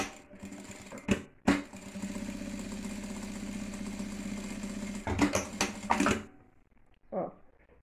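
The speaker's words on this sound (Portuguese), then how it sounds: "Vou costurar com um pé de máquina." A sewing machine stitches fabric for a box-style zippered pouch, running in a steady rapid whir for several seconds, then a few short bursts of stitching before stopping, with clunks of handling at the start.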